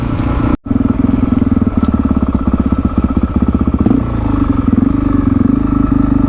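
A Suzuki DRZ400E motorcycle ridden along a bridle track, its engine chugging loud and close with a steady pulsing rhythm and a brief cut near the start.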